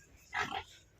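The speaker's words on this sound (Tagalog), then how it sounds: "Nahirapan yung asawa ko na mailabas yung baboy." A single short grunt from a pig on a rural farm, loud and close, lasting about a quarter second over quiet background.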